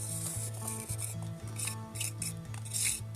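Repeated scraping and raspy rubbing as sprayed-on stucco fake rock texture is carved, close up, in a steady back-and-forth rhythm with crisp gritty bursts.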